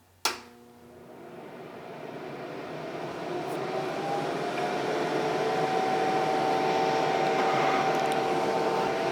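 A Nesco food dehydrator is switched on with a click, and its fan quickly builds to a loud, steady, dryer-like whoosh of airflow that holds without a break.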